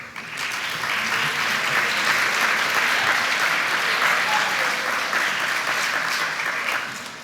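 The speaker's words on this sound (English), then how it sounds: "Would all the Word Masters please stand up and let us give you a round of applause?" An audience at a middle school awards day gives a sustained round of applause for standing students, steady dense clapping that swells quickly and fades at the end.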